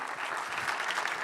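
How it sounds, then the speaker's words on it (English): A brief burst of dense, even audience clapping at a FIFA Interactive World Cup final event, loud and continuous with no voices. "You can clap, everybody."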